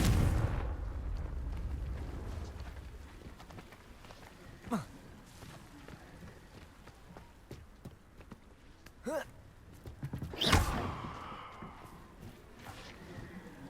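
Confringo blasting curse in Hogwarts Legacy exploding in a sharp burst near the end, preceded by a couple of smaller blasts, over steady game ambience with a voice speaking nearby.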